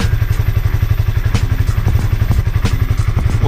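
A motorcycle engine run for five months on cooking oil as engine oil idles steadily with a fast, even low throb and occasional light mechanical clatter, close by, with no talking.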